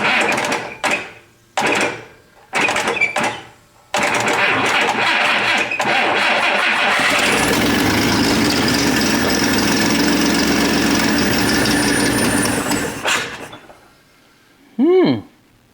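A 1962 AMC Rambler engine cranks over through a starter switch, first in several short grinding bursts, then in one long continuous whirring crank before it stops, followed by a brief rising tonal squeal.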